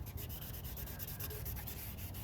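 Wet sanding a foggy car headlight lens by hand with fine 600-grit sandpaper, a steady continuous rubbing rasp with rhythmic back-and-forth strokes, close and fairly quiet, with no talking.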